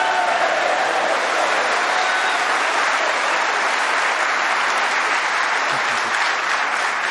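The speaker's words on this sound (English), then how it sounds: "Great reaction from the crowd." Sustained loud applause from a snooker crowd for Ronnie O'Sullivan's century break of 103 in the 2022 final against Judd Trump, dense even clapping throughout with a faint commentator's voice underneath.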